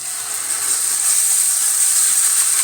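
Tomatoes go into a hot pan of onions and ginger-garlic paste for chicken curry and sizzle loudly in a steady, bright hiss that holds through the whole clip.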